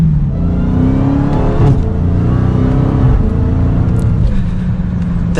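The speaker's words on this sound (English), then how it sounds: "That supercharger whine" A supercharged Dodge SRT Hellcat accelerates hard, its engine droning loud with a high supercharger whine climbing in pitch through a shift, steady and close.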